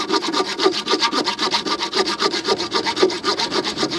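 A Victorinox RangerGrip 130mm folding saw rasps through a wooden log in fast, steady back-and-forth strokes, loud and close with no talk.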